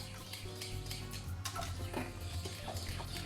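Orange jelly mixture being stirred continuously in a pot as it thickens over low heat, with soft scraping and faint bubbling under a steady background hum and no talk.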